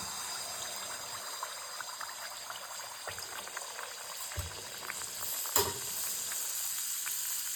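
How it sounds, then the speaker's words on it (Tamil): Karupatti paniyaram batter poured into hot oil, giving a continuous bubbling, crackling fry close by, with scattered small pops and a brief louder clatter midway. "இப்போ கருப்பட்டி பணியாரம் ஊற்றலாம் இந்த மாதிரி கரைச்சிக்கிட்டு மாவை அப்படியே எடுத்து எண்ணெயில் ஊற்றணும்"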